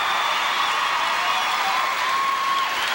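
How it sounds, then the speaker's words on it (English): A gymnastics arena crowd at the 1996 McDonald's American Cup roars and applauds for gymnast John Roethlisberger, a continuous wash of cheering and clapping that stays loud and even throughout. "listen to this crowd"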